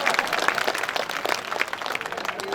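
Dense applause from an audience at a BJP party workers' gathering, steady and fairly loud clapping throughout with no talk over it.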